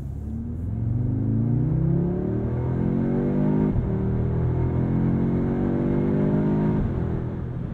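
A 2022 Audi S3 subcompact accelerates on the road from the driver's seat, its engine rising through gears in loud sweeping pulls with a brief dip at each shift and a steady rumble underneath.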